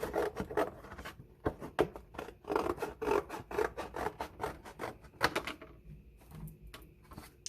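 Scissors cut a large sheet of watercolor paper in half, making a close series of rhythmic crisp snips and rasping slices, quieter at the end.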